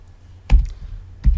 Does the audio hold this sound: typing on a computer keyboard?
yes